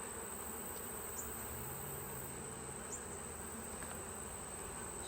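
Angry honeybees buzz loudly and steadily during a hive split inspection, a dense, continuous drone close by with no voices.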